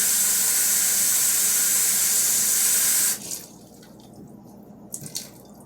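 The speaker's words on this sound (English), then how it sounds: "I'm going to fill this with water." A sink tap runs water into a container in a steady loud hiss for about three seconds, then shuts off, leaving a few faint drips and clinks.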